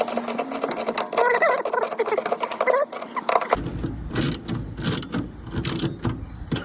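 A 1967 Camaro convertible seat belt is adjusted and tightened, giving a continuous close ratcheting, clicking mechanical rattle with dense rapid ticks and no talking.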